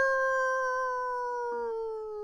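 One long, steady howl, slowly sinking in pitch with a slight break near the end, clear and alone against a quiet background.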